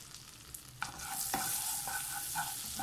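Kashmiri chili powder sautéed in a frying pan makes a soft, steady sizzle under quick scraping strokes of a spoon stirring, close and quiet.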